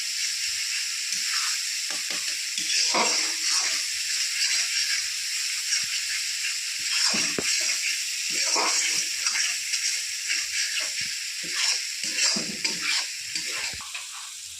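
Masala spice paste frying in a pan with a little added water for a spicy egg poach and potato curry, a steady loud sizzle and hiss with occasional stirring scrapes throughout, no talk.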